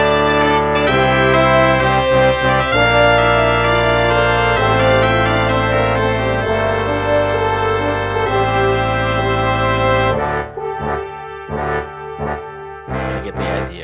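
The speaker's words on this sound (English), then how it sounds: "if we take the brass from MuseScore 3, it'll sound like this" A brass section rendered with MuseScore 3 sound fonts plays loud sustained chords and stepping lines for about ten seconds, then thins to sparser, quieter notes near the end.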